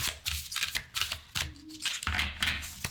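Tarot cards being shuffled by hand, a series of quick riffling and slapping bursts close up, moderately quiet.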